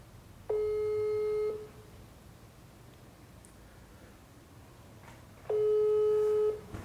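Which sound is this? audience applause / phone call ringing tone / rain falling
phone call ringing tone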